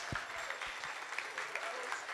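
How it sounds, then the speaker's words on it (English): Quiet applause from a crowd at a market celebration livestream, a soft, distant patter of clapping with a few louder low thumps near the start, faintly mixed with murmured voices. "Big round of applause."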